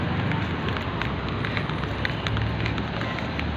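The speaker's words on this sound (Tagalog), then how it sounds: "ang lakas ng hangin" Strong wind buffets the microphone outdoors in a continuous loud roar, rumbling and gusting throughout with no pauses.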